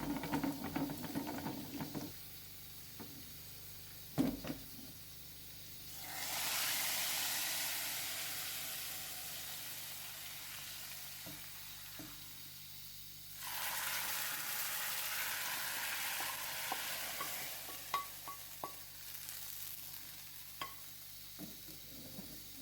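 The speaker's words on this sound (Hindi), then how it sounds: "जितनी देर में ये मसाले कड़कड़ाए हैं ना, तो बस अब इसका मैं बघार लगा लूँगी।" Whole spices crackle in hot oil for a tadka, a broad steady sizzle swelling in two long loud stretches with scattered pops and clinks of stirring between them, no voices.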